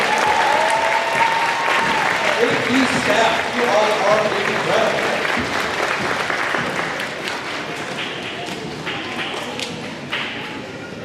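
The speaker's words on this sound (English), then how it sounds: "Let's give them all a big round of applause and send them off." A crowd at a school rally and awards event breaks into loud, dense applause that gradually thins and fades, with a voice speaking over it partway through.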